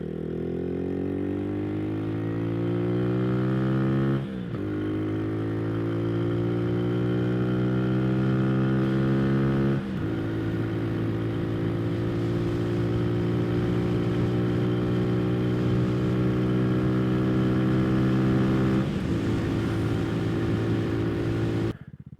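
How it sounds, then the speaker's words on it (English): A KP Mini 150 RS EFI motorcycle fitted with a new exhaust revs steadily up and down, its loud, close engine note climbing through several gears with brief dips at each shift and no talk. "And now we're gonna check this new exhaust. You could definitely hear it."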